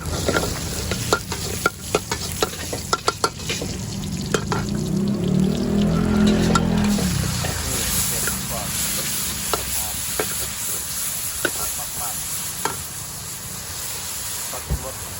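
Shrimp fried rice is stir-fried in a hot pan, making a loud, continuous sizzle broken by quick metallic scrapes and taps of a spatula, with a voice speaking at times.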